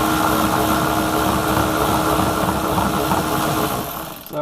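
Power tool turning a 10 mm socket on an extension to remove a tail light nut on a 2018 Toyota 4Runner Limited gives a loud, steady whirring drone that cuts off near the end.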